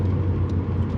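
A Mk6 Ford Fiesta RS swapped with a 2.5-litre turbocharged Focus RS engine making 500bhp gives a steady, deep, close engine rumble with a low droning tone over a single brief second.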